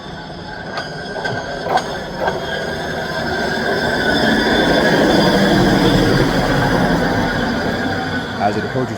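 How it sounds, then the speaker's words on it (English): A CSX hi-rail vehicle approaches a station with a steady rumble and rolling mechanical clatter that swells and holds, sharp metallic clicks scattered through it. "A CSX high rail approaches the station."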